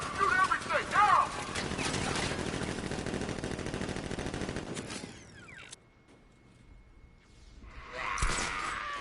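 Guards open fire in Batman Arkham Knight with sustained rapid automatic gunfire that rattles densely for about five seconds, then breaks off into quieter mechanical noise before another loud burst near the end.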